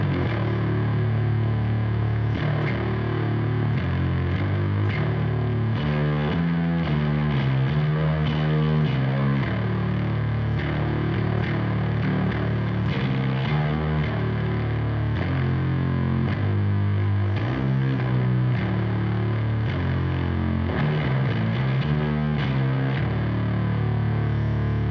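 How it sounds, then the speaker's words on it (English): A heavily distorted synth through a distortion pedal plays continuously and loudly, its gritty, buzzing chords shifting throughout without pause. "Let's just get straight into what the distortion sounds like with a synth underneath it"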